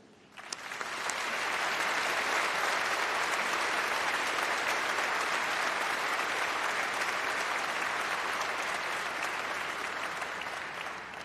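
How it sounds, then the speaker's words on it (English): Sustained applause from a large audience at a university graduation ceremony, swelling quickly and holding a dense, steady roar of clapping for about ten seconds with no voices over it. "join me in a round of applause to thank everyone from the university who has supported you"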